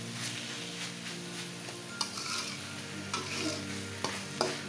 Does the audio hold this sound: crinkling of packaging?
no